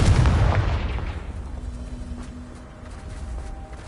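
Confringo spell in Hogwarts Legacy bursting as a fiery blast: one loud booming explosion up front that decays into a rumbling tail over several seconds, with no talk.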